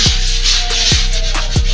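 Steady scratchy rubbing of sandpaper by hand on a construction job, continuous and fairly loud, with three low thumps spaced through it.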